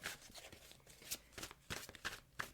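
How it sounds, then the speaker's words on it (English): Tarot cards being shuffled in quick riffling bursts, close and fairly quiet, with brief pauses between flurries. "let me just get a couple more shuffles in here"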